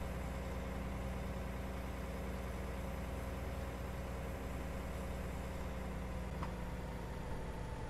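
A Case IH Steiger Quadtrac tractor idles in Farming Simulator 19, a steady, faint, continuous low engine hum with no speech.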